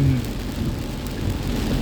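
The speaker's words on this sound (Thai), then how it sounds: "ฝนตก กับฝนตก" Heavy rain pouring down during a downpour with traffic jams, a dense continuous roar with a low rumble underneath, loud and unbroken throughout.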